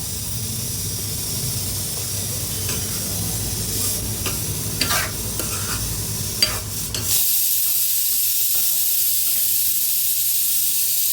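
Finely chopped garlic sizzles steadily in a hot pan while sambar is made, a dense bright hiss with scattered stirring clicks, then a louder, smoother sizzle takes over partway through, close and with no voices.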